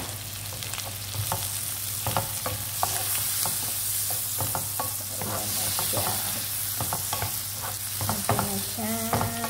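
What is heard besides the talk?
sautéing tomatoes with egg and onion in a pan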